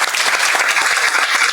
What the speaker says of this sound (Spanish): Un aplauso para Fernanda Calderón.